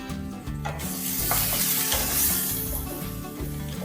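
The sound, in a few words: eggplants frying in oil in a pan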